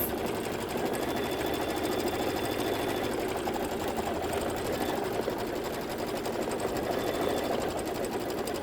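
An embroidery machine stitches a radial starburst quilting design on muslin, a rapid, steady needle chatter running close and continuous throughout.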